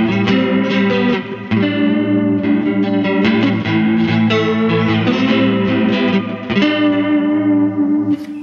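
Electric guitar through an Electro-Harmonix Small Clone chorus pedal in a chorus-only chain, a dense, shimmering chorused strummed tone with wobbling modulation, loud and continuous for several seconds.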